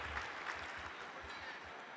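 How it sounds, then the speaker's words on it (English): An audience gives a round of applause for cricketer Sourav Ganguly at a talk event, a soft, continuous patter of many hands heard at some distance. "Yes, he deserves a round of applause, ladies and gentlemen."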